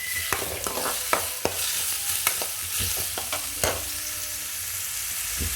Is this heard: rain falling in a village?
no